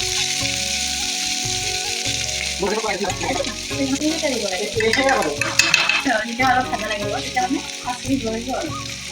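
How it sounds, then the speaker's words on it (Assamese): Steady sizzling of dried fish frying in a pan for chutney, with scraping stirs throughout and music playing softly underneath. "এতিয়া আমি এনেকৈ ভাজি আছোঁ"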